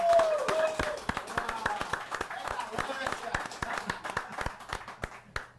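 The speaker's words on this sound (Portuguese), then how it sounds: "Uma salva de palmas." Applause for a guest on a Brazilian talk show, a small group clapping in sharp, distinct claps that thin out and fade over several seconds, with a brief whistle at the start.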